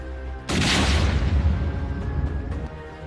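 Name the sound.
explosion of a car filled with explosives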